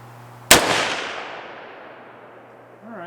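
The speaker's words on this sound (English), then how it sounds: "Let's see where the next shot goes." A single loud rifle shot from a Palmetto State Armory PA-10 Gen 3 with a Ballistic Advantage barrel cracks sharply, then rolls off in a long fading echo across the range. No one speaks.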